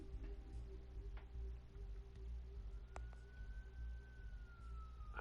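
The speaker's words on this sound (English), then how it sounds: "There are quite a few police cars convening on your location." Police car sirens in the video game Batman: The Telltale Series, a faint, distant wail rising and sliding through its tone over a low rumbling background, with scattered small clicks.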